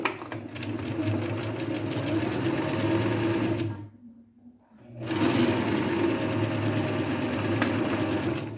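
A sewing machine stitching the seams of a short-sleeved blouse, running steadily and loudly, pausing briefly in the middle before resuming the same whirring rhythm.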